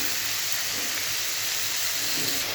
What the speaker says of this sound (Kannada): ನೋಡಿ ಕ್ಯಾಪ್ಸಿಕಮ್ ಹಾಕ್ತಾಯಿದ್ದೀನಿ. ಇದು ಅಷ್ಟೇ ಚೆನ್ನಾಗಿ ಫ್ರೈ ಮಾಡ್ಕೊಳ್ಳೋಣ.